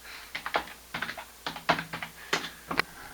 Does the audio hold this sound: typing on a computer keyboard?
yes